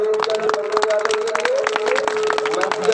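Applause at a Republic Day gathering in a madrasa for an honoured guest: a crowd clapping steadily in dense rapid bursts for a few seconds, close and lively, over a steady tonal hum.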